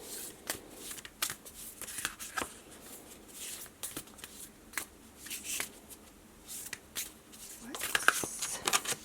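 Moonology oracle cards are shuffled by hand close up, giving a run of crisp riffling slaps and flutters in irregular bursts, followed by a brighter rustle of cards near the end.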